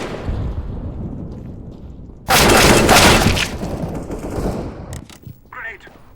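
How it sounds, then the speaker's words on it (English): Counter-Strike: Global Offensive match with a sudden loud burst of gunfire and a blast-like crackle that dies away into scattered shots and clicks, with players talking faintly. "Throwing a grenade."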